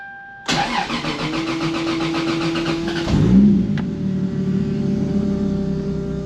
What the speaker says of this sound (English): You hear the fuel pump priming?